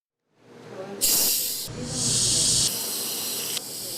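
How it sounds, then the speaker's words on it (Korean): Carbonated makgeolli, a rice wine brewed with rice and whole-wheat nuruk, hisses out through the small gap at a bottle cap in close, loud, steady bursts that restart several times. "병과 뚜껑에 작은 틈을 비집고 나오는 청량감. 탄산음료도 맥주도 아닌 우리 술 막걸리가 내는 소리입니다."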